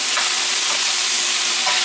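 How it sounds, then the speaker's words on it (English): Steak, chicken and fajita vegetables with garlic sizzle steadily in a hot pan, a continuous close hiss with faint stirring. "can you hear that sizzle?"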